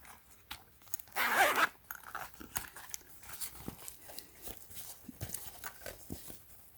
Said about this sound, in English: And this one is a double zipper